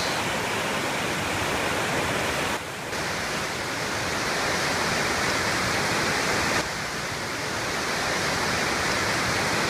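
Wahclella Creek, swollen by heavy winter rain, roars at full force in a loud, unbroken rush of water with no voices.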